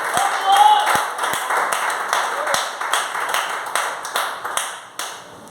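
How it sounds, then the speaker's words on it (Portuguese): Worshippers in a church service break into scattered clapping for Jesus, with individual sharp claps standing out and tapering off, alongside some voices. "uma salva de palmas para Jesus"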